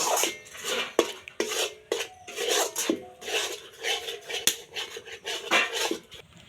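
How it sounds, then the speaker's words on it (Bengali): Rice flour mixture for a palm-fruit pitha is stirred in a pot, making a steady run of scraping and rubbing strokes broken by frequent sharp metallic clanks of the utensil against the pot, close and moderately loud throughout. "এটা ভালোভাবে নাড়িয়ে নেব"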